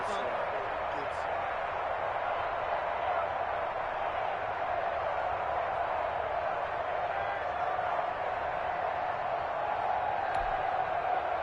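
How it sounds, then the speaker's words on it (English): Stadium crowd noise from a PS4 American football video game forms a steady, dense roar throughout, with a play-by-play commentator talking over it. "The crowd getting into it as we come up on a big 3rd down."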